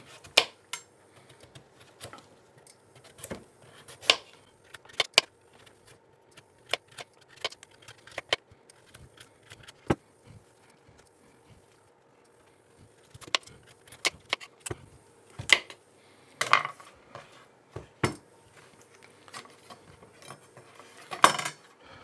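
Knife peeling a cushaw winter squash in a kitchen, producing scattered sharp clicks and scraping scratches at irregular intervals, close and fairly quiet with short pauses between strokes.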